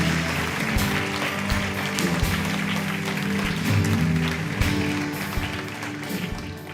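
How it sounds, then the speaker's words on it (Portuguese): Congregation in a church service applauding strongly, a broad sustained wash of clapping and noise that holds steady for several seconds. "Dá um aplauso bem forte ao Senhor"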